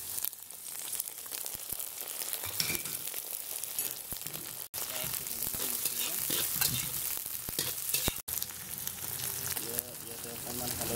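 Silkworms and onions fry together in a pan, a dense steady sizzle with stirring scrapes running the whole time and two brief dropouts; a voice speaks faintly underneath.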